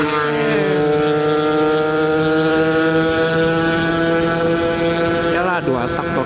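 A Yamaha RX King two-stroke motorcycle climbs uphill on the Puncak road at night, its engine a loud, steady, buzzing drone that holds its pitch, then wavers and dips briefly near the end.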